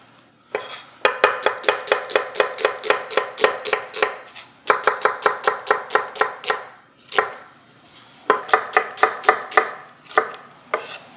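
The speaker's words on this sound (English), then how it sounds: "I'm going to julienne these, which means to go kind of against the grain here and cut it into thin strips." A knife julienning onions into thin strips on a cutting board, heard as three long runs of quick, even chopping strokes close up, with short pauses between the bursts.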